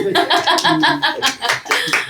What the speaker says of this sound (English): And there we go, Mr. Jason Kasuto, round of applause.